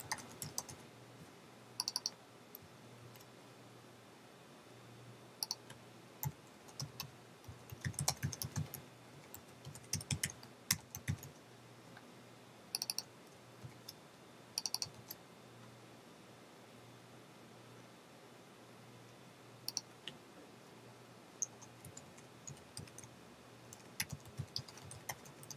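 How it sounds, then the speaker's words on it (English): Someone types on a computer keyboard while programming, with soft, irregular clicks and small bursts of keystrokes over a quiet background hiss, faint and close, with no talking. "I'm typing this out and I'll explain what I'm doing here in 1 second."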